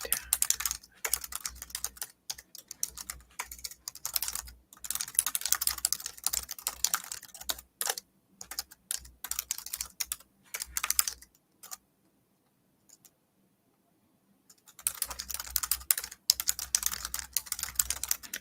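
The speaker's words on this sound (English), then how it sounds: "Your keyboard is really loud." Loud, rapid typing on a computer keyboard clatters in dense bursts close by, pausing briefly for a few seconds of near silence before resuming.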